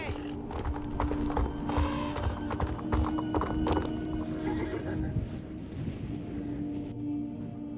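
Pony in the Star Stable Online game gallops with steady clip-clop hoofbeats and a whinny, set against dense game music and ambience; no one talks.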